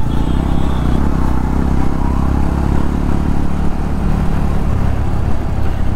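A group of motorcycles rides together along a road, their engines making a loud, close, continuous drone that holds steady for the whole stretch.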